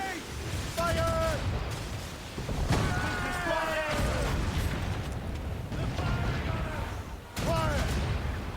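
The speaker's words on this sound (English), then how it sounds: "Cannon ready! Fire!" Ship cannons boom in the naval combat of Assassin's Creed Rogue on PS4, several loud broadband blasts at irregular intervals over rushing sea and wind noise, with shouted crew orders heard between the shots.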